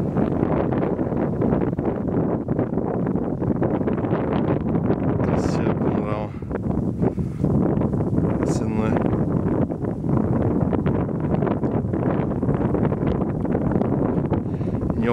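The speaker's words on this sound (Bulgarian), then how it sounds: "Ууу, че ветрец!" Strong wind buffets the microphone throughout with a constant loud roar on a Bulgarian mountain at Karadzhov Kamak, and faint brief voices come through it.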